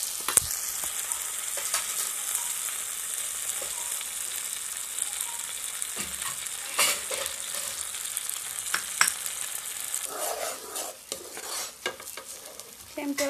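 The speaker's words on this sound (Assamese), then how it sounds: "এতিয়া ফেটি লোৱা কণীখিনি দি দিম" Beaten eggs frying in a pan give a steady hiss of sizzling oil, close and moderately loud, with intermittent scraping and stirring clicks growing busier toward the end.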